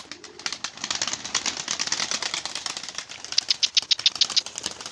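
Pigeons flapping their wings in a rapid fluttering rush, close by, with the beating growing sharper and more rhythmic toward the end.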